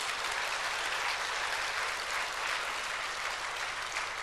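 Steady, dense applause from a large church congregation fills the whole stretch, loud and continuous without pause.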